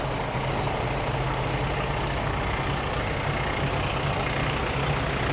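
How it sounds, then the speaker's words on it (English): Vintage fire engine idling at a Barley Saturday show in Wales, a steady, loud, low-pitched rumble of a heavy engine close by, unchanging throughout with no voices. "we might as well have one of the fire engine as well"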